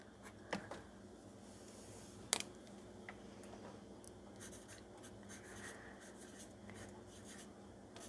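Pen writing on a recycled handmade paper tag cut from a tea box, faint close scratching strokes with a couple of sharp taps, heard alone in a quiet room.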